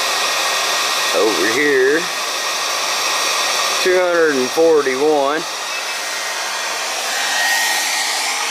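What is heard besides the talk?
heater blowing air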